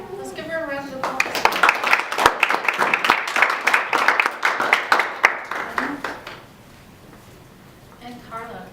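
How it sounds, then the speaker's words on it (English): Applause from the audience at a college panel discussion for student parents, crisp individual claps in a moderate rhythmic patter from a smallish group that tapers off, with speaking before and after. "Let's give her a round of applause."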